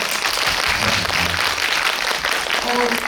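Audience applause at a film Q&A screening, a dense steady wash of clapping throughout with faint voices underneath.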